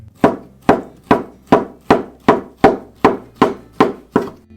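Knife chopping peeled ham on a cutting board, about ten sharp, evenly spaced thwacks in a steady rhythm, close and clear with no talk.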